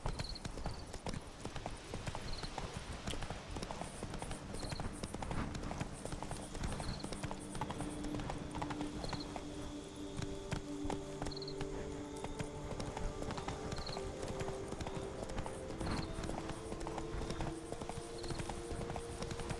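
Hooves of a horse galloping in The Witcher 3 video game clip-clop in a steady rapid rhythm, fairly faint, over soft background music.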